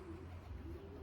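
Racing pigeons in a loft cooing softly, a brief low murmuring coo against steady background noise.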